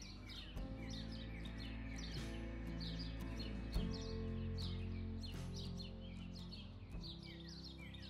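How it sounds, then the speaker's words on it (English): Birds chirp outdoors near a hotel in Rome on a cold, breezy day, giving bright, repeated tweets over a steady hum, with a few sharp knocks in between and no talking. "I just listened to the birds chirping and the gentle breeze of cold air."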